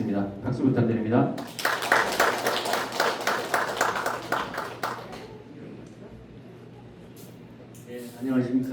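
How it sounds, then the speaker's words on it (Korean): Clapping from a residents' meeting audience about a redevelopment project, a burst of many hands starting after a short stretch of talk, gradually thinning and fading, with a voice returning at the end. "박수 부탁드립니다."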